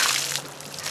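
Water sloshes and splashes steadily as it pours off a compost tumbler, a close, continuous wash of spilling liquid with no break.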